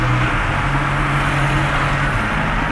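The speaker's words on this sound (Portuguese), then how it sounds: "hoje os carros estão correndo, hein?" Cars rush past on a road, heard from inside a moving Volkswagen Saveiro pickup: a steady, loud wash of engine and tyre roar with a low rumble, continuous and close, no voices.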